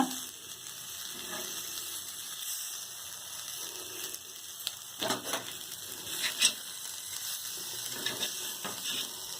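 Masala-marinated eggs frying in butter on a tawa, a low steady sizzle with a few louder scraping and clicking stirs near the middle and end, heard close and without speech.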